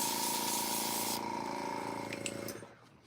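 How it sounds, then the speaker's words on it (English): An airbrush gives a steady, close hiss of spray that runs for about two seconds and then tapers off into quiet, with a few faint clicks near the end. "might help you turn the airbrush on"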